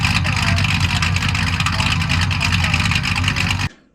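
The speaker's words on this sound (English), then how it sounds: "And it doesn't even sound too bad with this full exhaust." A 1969 Ford Fairlane V8 with a mild cam and full exhaust runs loud and close, a steady rumbling idle with a choppy lope that cuts off abruptly near the end.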